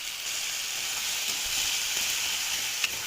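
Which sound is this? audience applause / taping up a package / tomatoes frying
tomatoes frying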